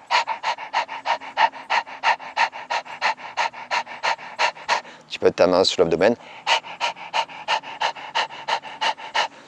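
Rapid, rhythmic panting breaths from a person doing the Kapalabhati breathing exercise, imitating a dog with mouth open and tongue out, repeat evenly and close, with a brief spoken instruction in French breaking the sequence midway.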